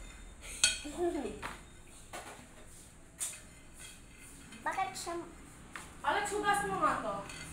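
Chapagetti noodles are mixed with utensils in a bowl, giving scattered light clinks and scrapes at moderate distance while children talk throughout.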